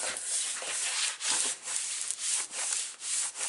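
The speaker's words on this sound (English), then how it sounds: "Just give that a rub." Creased paper for a Graphic 45 mini album being rubbed firmly by hand, a close, loud scraping swish repeated in steady strokes about every half second, with no voices.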